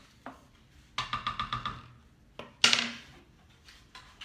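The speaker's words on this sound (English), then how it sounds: "you just stir it up." A spoon stirs hamburger vegetable soup with potatoes and tomatoes in an Instant Pot, making a quick run of light clinks and scrapes against the pot, then a few isolated knocks, close and clear.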